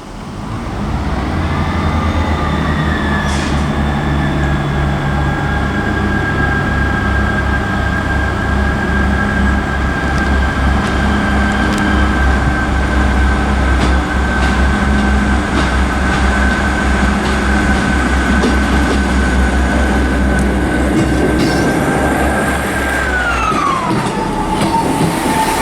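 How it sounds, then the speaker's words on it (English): A ScotRail diesel multiple unit, number 158736, pulls out of Perth station bound for Edinburgh, its engine droning loud and steady with a rising whine for over twenty seconds before fading at the end. "departing now is going to be the 1400 ScotRail service to Edinburgh"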